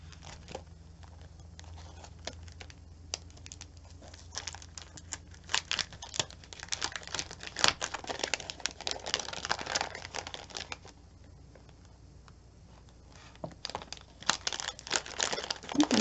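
Plastic sticker kit packaging being torn and crinkled open by hand, close and moderately loud, with bursts of crackling and ripping around the middle and again near the end between quieter stretches.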